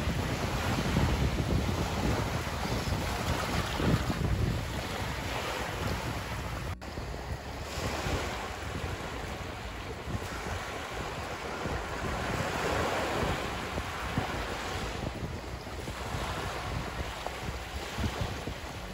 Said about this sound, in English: listen to the waves breaking on the beach when you're at the seaside